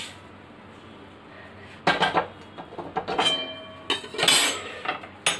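A cooking pan lifted off a stove while making sweet-sour pumpkin chutney: a handful of close metallic clanks and scrapes in an irregular sequence over a low kitchen hum, with no talking.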